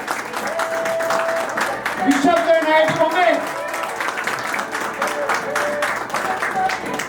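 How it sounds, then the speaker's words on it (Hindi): Audience applause at an awards event for IIT students, steady clapping running throughout while a voice announces a name over it. "जोरदार तालियां कंटिन्यू होती रहनी चाहिए।"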